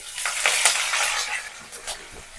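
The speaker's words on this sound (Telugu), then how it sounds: "ఇది ఒక టెన్ టు ట్వంటీ సెకండ్స్ ఆయిల్లో ఫ్రై చేసుకోవాలి" Urad dal, green chillies and curry leaves fry in hot oil with a bright crackling sizzle, stirred a few times with soft scraping, moderately close and without talk.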